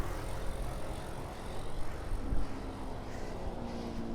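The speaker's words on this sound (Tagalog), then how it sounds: "Mahangin na." Steady low rumble of wind buffeting a rider on a fixed gear bike during a road ride from White Plains to BGC, continuous and fairly loud with a slight swell midway, no talk.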